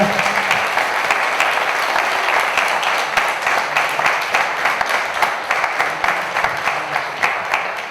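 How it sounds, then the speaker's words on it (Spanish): An audience at a mystery-themed conference talk in Zamora applauds with sustained, dense clapping that stays loud and even before easing slightly at the end. "Por favor, un aplauso para Juanjo López."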